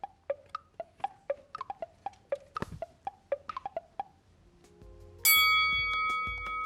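Game-show answer bell on a quiz program: a row of short, evenly spaced ticking pips counts down, then a single bright bell tone rings out and slowly fades.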